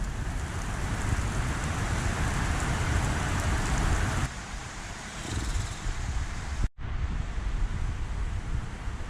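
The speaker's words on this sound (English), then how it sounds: "It's raining sideways." Heavy rain pours steadily in a dense hiss with gusting wind, briefly cutting out for a moment before the downpour resumes at full strength.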